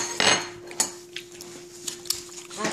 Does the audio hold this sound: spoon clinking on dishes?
yes